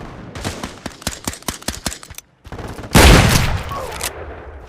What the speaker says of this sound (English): No, this isn't sawed off. It's just a shotgun.